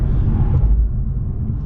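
A 2020 Infiniti Q50 AWD S brakes hard from 65 mph, heard from inside as a heavy low road rumble that eases a little partway through the brief stretch.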